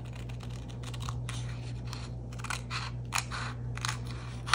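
Scissors cut through a paper file folder for a flamingo-themed journal, making a run of crisp, close snips and crunches that come in uneven bursts over a faint steady hum.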